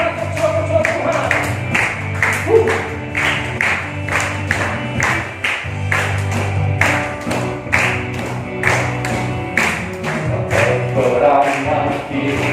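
An Indonesian church congregation claps in a steady rhythm during a worship service, with loud, regular claps over music.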